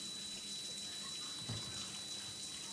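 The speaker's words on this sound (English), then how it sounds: "Make sure that's hot temperature, tap water, as hot as you can get it." Hot tap water streams steadily from a kitchen faucet into a cup while tortilla dough is being prepared, a faint, even rush of running water with no voices.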